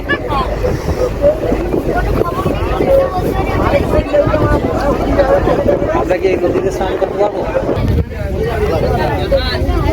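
A small country boat crosses to Ghoramara island in the Sundarbans: a steady engine rumble with wind buffeting the microphone and water wash throughout, and voices talking over it.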